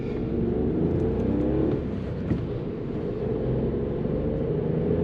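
A 2021 Audi A1 25 TFSI's small 95 hp engine drones and rises as it accelerates at speed on the autobahn, steady road rumble and wind noise filling the whole stretch without voices.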